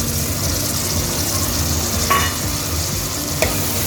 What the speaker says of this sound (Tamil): தக்காளியை சேர்த்ததுக்கப்புறமா இது நல்லா வதங்கணும்.